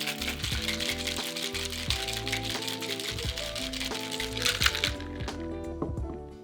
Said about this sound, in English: Then shake vigorously until frost forms on the outside of the cocktail shaker.